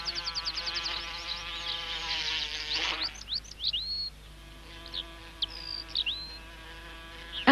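Beewolf digger wasps (Philanthus triangulum) buzzing in a nesting colony: a steady insect drone at first, then scattered close buzzing passes and whines, with no speech.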